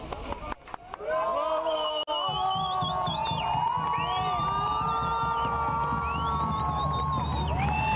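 A large crowd shouts and cheers wildly, many raised voices blending into a loud, continuous roar that holds steady for several seconds after a brief lull.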